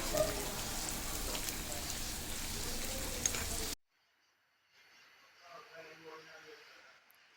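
Slit green chillies dropped into a pan for gongura prawns set off a loud, close sizzle that cuts off abruptly midway, followed by faint low background sound.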